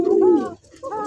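A male and a female pigeon coo near and loud, two rolling cooing calls separated by a short pause, with no talk over them.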